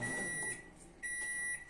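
A microwave oven beeps when done heating a dessert in a small confectionery kitchen, two clear high electronic beeps separated by a short pause, close and distinct with no talking.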